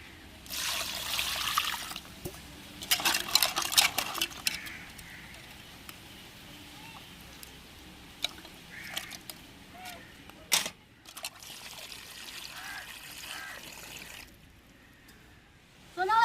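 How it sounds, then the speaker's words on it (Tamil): Water poured over crab while it is washed: intermittent splashing and trickling in bursts, with quieter gaps between pours and some handling noise. "தண்ணி ஊற்றி கழுவி எடுத்துக்கிடுவோம்"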